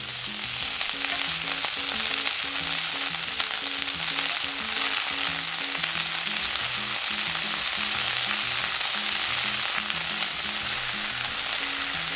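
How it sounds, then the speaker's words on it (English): Chives, carrot and bean sprouts stir-fry in hot oil for a Japanese-style ramen, and a dense, loud, continuous sizzle runs throughout with the rhythmic scrape and toss of stirring underneath, close up. "Stir fry just until they begin to soften, then add in the bean sprouts."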